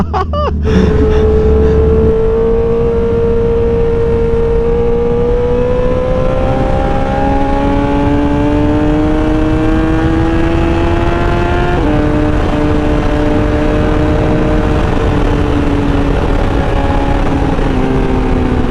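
A Honda CBR1000RR sportbike engine revs loud and close, its pitch climbing steadily through the gears in a long sustained roar with one clear shift midway.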